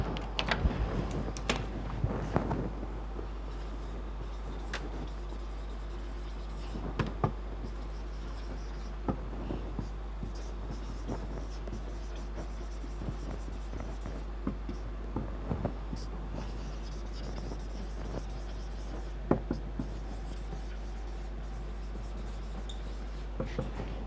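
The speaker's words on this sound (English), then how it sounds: "let me write it down." Writing during a biology lecture: a pen or marker scratches and taps on a board or paper in short strokes and clicks, faint and close, over a steady low electrical hum with no talking.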